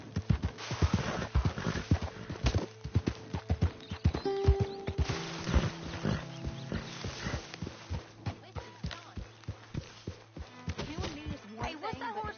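Horse in Red Dead Redemption 2 clip-clopping with steady hoofbeats, loud and close throughout, with a possible brief whinny; game characters talk over the hooves in places.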